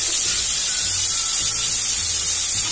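Tomatoes hit a hot pan for a chow chow masala and sizzle in a loud, close, steady hiss that fills the short clip with no talk.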